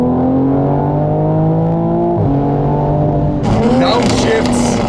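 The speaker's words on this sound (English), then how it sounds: "downshifts, the burbles." A loud 2020 Toyota Supra engine drones and its pitch drops on a downshift, then crackling exhaust burbles break out toward the end.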